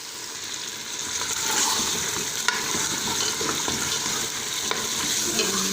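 Pig's trotters sizzle and fry in a pan with garam masala and dried coriander, with a steady close hiss broken by a few sharp scrapes of a spoon stirring through them; no one speaks.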